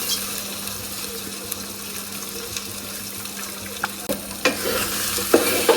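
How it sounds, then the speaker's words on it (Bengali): Rice grains, washed and a kilo in quantity, being fried and stirred in a hot pan for morog polao, giving a steady broadband sizzle with scattered scraping clicks and louder stirring knocks toward the end, no talk. "চাউলটা ভাজবো।"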